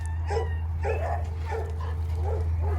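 Dixie, a dog on a long lead, gives a run of short close barks and yips at a steady rhythm over a constant low hum.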